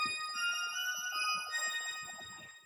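FL Studio bell synth pad with every bell preset stacked, giving a soft sustained cluster of bright ringing tones, quiet and steady, with faint low thumps underneath.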